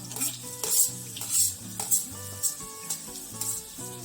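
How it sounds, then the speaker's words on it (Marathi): Finely chopped onion hitting hot oil in a pan for a clam sukka recipe, sizzling steadily while a metal spoon stirs and clinks against the pan in a loose rhythm. "आता आपण एक मोठा कांदा बारीक कापून घेतलेला आहे, हे फ्राय करून घ्यायचं आहे"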